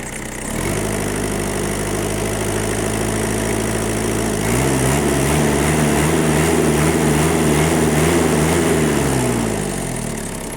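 A Kubota GT-3 four-cylinder tractor, an older Japanese import in original paint, runs steadily up close with a continuous diesel chug; the engine note shifts lower partway through, with no talking.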